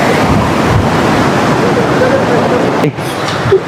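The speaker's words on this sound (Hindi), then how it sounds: "पूरा डैम का पानी आ रहा है" Water released from a dam rushes past large rocks near Manali, a loud, continuous roar mixed with wind buffeting the microphone, with brief voices breaking in near the end.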